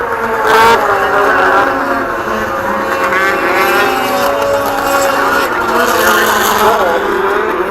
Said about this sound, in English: 3 sleds battling it out for the win here.